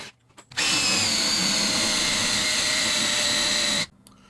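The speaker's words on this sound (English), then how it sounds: "I drilled the holes to 3/8 of an inch deep" A power drill with a spade bit bores steadily into wood for about three seconds, a loud sustained whine starting and stopping abruptly, with no talking.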